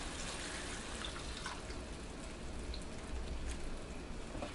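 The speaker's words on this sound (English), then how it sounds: "I'm gonna add about 1 cup of water here." A cup of water is poured into a pot with Worcestershire sauce, salt, mace and pepper for a keto steak and kidney pie, giving a quiet, steady splashing rush throughout.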